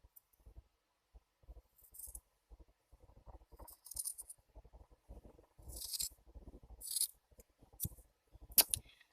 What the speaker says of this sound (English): I'm cutting a little more than I want because this sock curls up really easily.